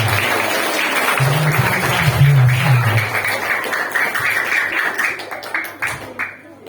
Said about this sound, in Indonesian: Ya, tepuk tangan untuk anak-anak saya.